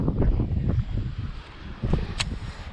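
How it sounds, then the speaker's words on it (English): Strong gusting wind buffets the microphone outdoors during a cold, blustery bass fishing trip, a low rumbling roar that surges and eases in uneven gusts, loud and close, with a brief higher hiss near the end. "the audio quality is probably going to be crap because it's super windy"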